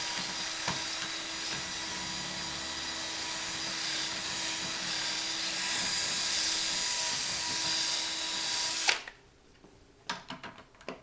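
Power drill boring steadily into an armored residential deadbolt lock, a loud continuous whine for about nine seconds that cuts off abruptly, followed by a few faint clicks and knocks.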